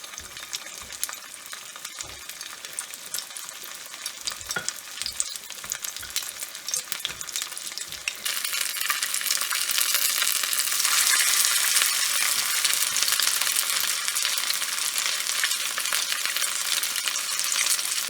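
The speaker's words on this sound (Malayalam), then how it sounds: "ഞാനിപ്പോൾ 4 വട ഇട്ടിട്ടുണ്ട്. ഇനി ഇത് ഒരു സൈഡ് ഒന്ന് ഫ്രൈ ആവട്ടെ കേട്ടോ." Onion vada made from leftover rice batter frying in hot oil, a steady loud sizzle with faint stirring clinks that grows denser and louder partway through, with no voices.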